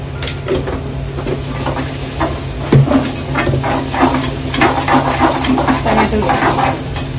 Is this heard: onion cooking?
yes